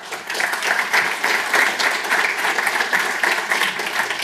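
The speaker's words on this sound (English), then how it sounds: "Please give a big applause for Matthias." A conference audience at the Qt World Summit gives a speaker a loud, sustained round of applause, dense clapping filling the room without pause for several seconds.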